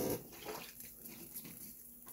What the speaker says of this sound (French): Je vais rincer ça d'abord.